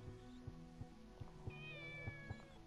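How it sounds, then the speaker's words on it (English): Cat in the video game Shenmue meowing once in a short, faint, high cry over quiet background music with soft rhythmic thumps, no voices. "Shut the fuck up, cat."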